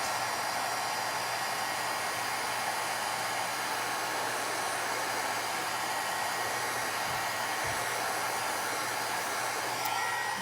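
A heat gun blows continuously while melting embossing powder on a handmade card, producing a steady, loud, close airy roar that holds unchanged for the whole stretch.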